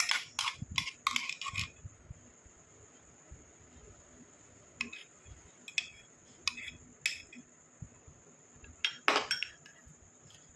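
Cooled cream mixture moved into another bowl, with sharp clinks and scrapes of a spoon against the bowl in scattered bursts close by, separated by quiet stretches with a faint high steady tone.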